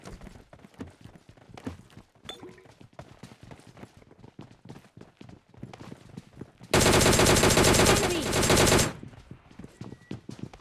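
PUBG Lite gameplay: a long, loud burst of rapid automatic gunfire lasting about two seconds cuts through a stretch of quiet in-game footsteps and small clicks.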